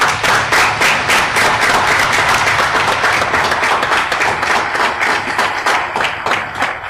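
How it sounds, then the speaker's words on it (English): An audience applauds at a naval shipyard change of command ceremony, a dense, loud round of many hands clapping sustained evenly for several seconds, with no voices over it. "How about a brief round of applause?"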